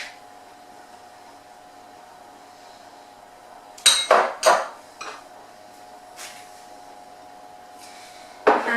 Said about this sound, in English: I'm going to mix this until it's all creamed together.